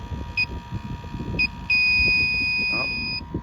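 Electronic AC refrigerant leak detector, used on an R22 unit being converted to R422B, gives short high beeps and then a long sustained tone over a background of talk and outdoor noise.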